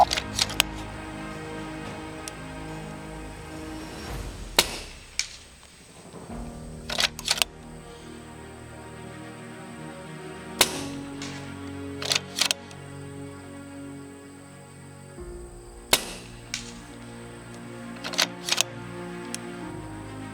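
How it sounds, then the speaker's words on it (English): Rifle firing .25 caliber sniper slugs at steel targets 100 yards out, heard as a string of about a dozen sharp, spaced cracks, some paired, over steady outdoor background noise. "I'm going to be shooting the 25 cal sniper slugs at some steel targets."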